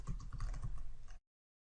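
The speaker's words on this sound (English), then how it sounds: "Click in the placeholder and start typing." Rapid, close clicking of keys as someone types on a computer keyboard, a dense run of keystrokes lasting about a second before cutting to silence.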